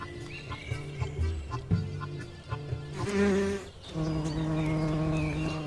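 European hornets buzz in spring, a layered, droning hum that rises and swells mid-clip before settling into a steady, close buzz with no voices.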